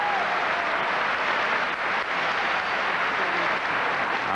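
A dense arena crowd cheers for a Korean vaulter at the 1988 Olympic men's gymnastics, a loud continuous roar of cheering and clapping that fills the space.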